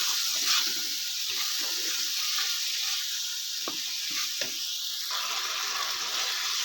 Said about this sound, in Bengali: এবার আমি মশলার সাথে সব কিছু ভালো করে কষিয়ে নিচ্ছি